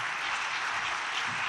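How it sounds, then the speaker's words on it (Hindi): Brief, steady wash of audience applause at a housing allotment ceremony, dense and even with no clear individual claps. "सोनिया के लिए और इन जैसी बहुत सी ख़वातीन के लिए बहुत सी तालियां"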